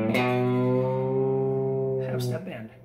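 An electric guitar played through effects, with pull-offs ending in a half-step bend; a sustained bent note rings clearly and alone before a brief scrape of picking noise near the end.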